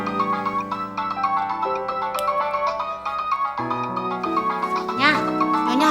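A mobile phone plays a loud, melodic electronic ringtone that repeats a bright synthetic tune of stepped notes for the whole clip, with no speech over it.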